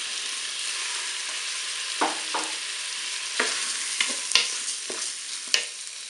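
Rice and carrot pieces go into a hot pan and are stirred, giving a constant loud sizzle with scattered scraping knocks from the stirring. No one speaks.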